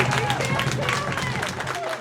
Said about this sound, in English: Round of applause for JJ and Chris